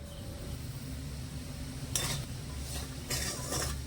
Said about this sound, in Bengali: এই হাফ বাটি সুজিটাকে আমি একটু শুকনো খোলা ভেজে নেবো